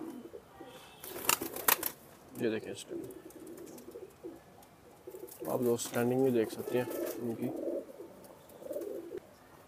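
Deep dub pigeons coo softly in low, rolling calls, mixed with someone talking close by.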